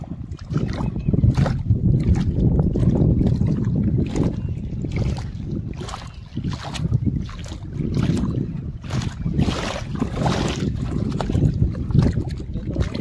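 Water waves lapping close by, a continuous rushing wash of small surges with steady wind buffeting the microphone throughout.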